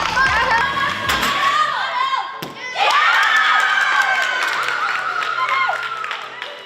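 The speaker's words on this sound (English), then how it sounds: "There's lots of cheering going on at all times" Children cheer and shout loudly in a gym, with claps and thuds mixed in. The noise dips briefly near the middle, then surges back into sustained excited yelling.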